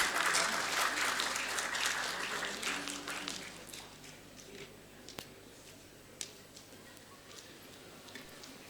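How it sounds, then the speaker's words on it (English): Applause from a conference audience greets a speaker called up for closing remarks at a tourism event, loudest at the start and fading to scattered claps by the end. "Let's welcome him with a huge round of applause."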